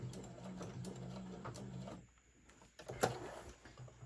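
A sewing machine back stitches the seam of a summer tote bag in a quiet room, its rapid mechanical whirring stopping abruptly halfway, followed by a short pause and a few clicks and handling sounds.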